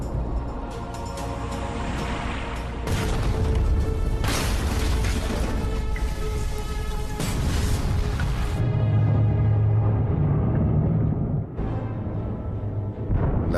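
A torpedo explosion against a submarine heard through the hull: a deep, heavy rumble and broadband roar rolls on continuously, with sharp crashing bursts, then settles into a lower droning hum; dense and loud throughout.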